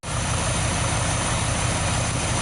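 Engine of a 1973 Dodge D100 pickup truck idling, a loud steady close-up rumble with no break over a few seconds.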